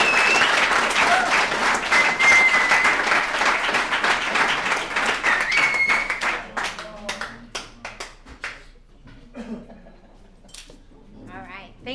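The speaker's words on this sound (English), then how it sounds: "Let's give Justin another round of applause" An alumni meeting crowd of a recovery services group applauds for Justin: dense, loud clapping for about six seconds, then thinning to scattered claps and a few voices as it fades out.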